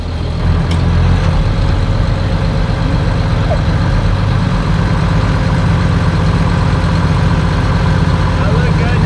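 A boat's inboard engine runs steadily in forward gear, a loud continuous low rumble that holds even throughout, with no pauses or voices.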